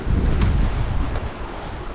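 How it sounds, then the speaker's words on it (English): Wind and waves during a squall on the Atlantic Ocean aboard a sailboat, a loud blustery rush with buffeting on the microphone and breaking water, heard alone for a brief moment. "Hello from a very wet and windy Atlantic Ocean."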